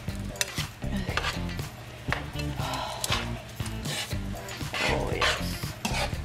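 A utensil scrapes and clacks against a pan as pancit noodles are mixed, repeated rhythmic stirring strokes over a light sizzle, close and fairly loud, with no talking.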